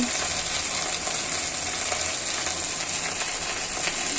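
Mustard seeds, panch phoron, chopped onion and garlic fry in hot oil for a jute-leaf stir-fry, giving a steady, dense sizzle that holds close and even throughout with faint crackles and no talk.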